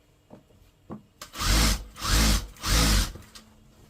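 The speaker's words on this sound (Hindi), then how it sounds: "अब आप यहाँ से ऊपर की तरफ मुड़ के जाएंगे और बाकी सिलाई पूरी कर लेंगे।" A sewing machine stitching a churidar pajama runs in three short, loud bursts close up, after a couple of faint handling taps.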